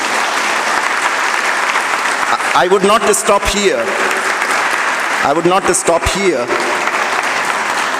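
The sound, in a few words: applause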